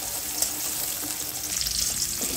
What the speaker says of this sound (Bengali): কাঁচামরিচটা একটু নেড়ে ছেড়ে ভেজে নিচ্ছি